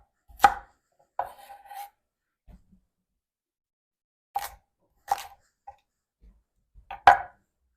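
A knife chops carrots on a cutting board for canning, a handful of sharp separate thuds with pauses in between, close and clear in an otherwise quiet kitchen.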